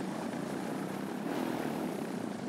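A Velis Electro fully electric airplane passes with a steady whirring propeller and airflow rush, a fairly loud, even hum with no speech.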